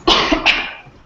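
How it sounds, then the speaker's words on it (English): A single person's double cough, two sharp, close bursts in quick succession with a brief fading tail, loud and alone without talk. "sorry, I have to cough."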